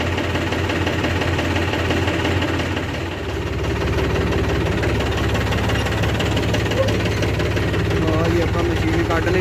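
Tractor engine idling with a super seeder hitched behind, a loud steady diesel rumble with an even knocking pulse that dips briefly, then runs on unchanged.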